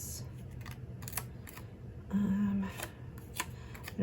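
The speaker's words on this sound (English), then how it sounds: "Gonna cut it right down the middle and place them on either side of" Crisp paper snips and soft rustles while a sticker for a Hobonichi Cousin planner is cut, a handful of short, close clicks and crinkles spaced irregularly over a quiet background.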